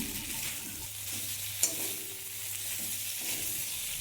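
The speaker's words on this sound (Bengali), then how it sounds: "তারপর এর মধ্যে হাফ চামচ আদা বাটা দিয়ে দিচ্ছি সেটাও কিছুক্ষণ নেড়েচেড়ে নিচ্ছি" Pointed gourd frying in a pan is stirred after ginger paste goes in, for a potato and pointed gourd curry. A steady close sizzle runs under soft scraping strokes, with one sharp utensil clink midway.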